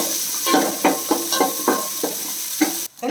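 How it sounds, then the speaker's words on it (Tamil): Onions frying in a pan for Kerala-style fish curry, a soft sizzle broken by repeated scraping stirs of a spoon every half second or so, close and fairly quiet. "வெங்காயம் ஓரளவு நல்லா வதங்கியாச்சு."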